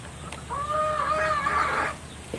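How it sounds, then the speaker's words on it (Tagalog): A rooster crows once, loud and near, over a faint background of farmyard noise, with no talking. "Ang ingay nung mga manok."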